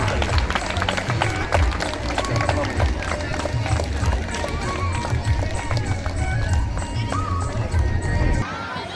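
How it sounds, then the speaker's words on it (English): Dense, sustained applause from a school crowd at a Children's Day celebration, loud and rapid for several seconds before cutting off, with voices talking over it. "give me a big round of applause"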